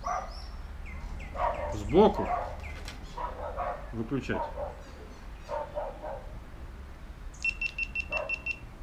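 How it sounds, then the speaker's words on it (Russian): Dogs bark a few times indoors, in short bursts, while someone talks over them as he unboxes a GoPro; a string of electronic beeps from the camera follows near the end. "Собаки, не гавкайте."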